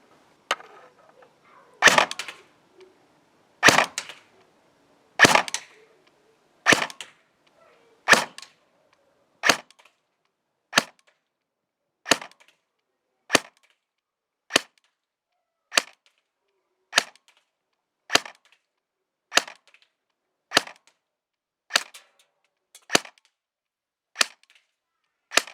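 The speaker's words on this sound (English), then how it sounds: "Let's go put some rounds through it on the chronograph." An ASG CZ Bren 805 airsoft gun fires single shots, about twenty sharp cracks spaced roughly a second apart, the first few louder and closer, the rest evenly paced against near silence.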